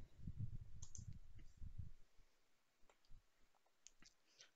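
Sparse, light keystroke clicks on a computer keyboard, scattered and fairly quiet, following a couple of seconds of muffled low rumble at the start.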